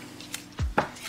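Kitchen knife chopping vegetables such as onion, white peppers, tomatoes and white mushrooms on a board, two quick close thuds in a quiet room.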